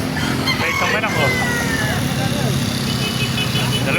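A rooster crows once amid a busy outdoor chicken market in Baliuag, Bulacan, with people talking nearby and traffic rumbling in the background.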